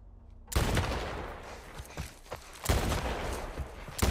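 Gunfire in The Last of Us video game, a sudden loud burst of shots after a quiet start, followed by scattered reports and a second heavy volley, close and sharp with echoing tails.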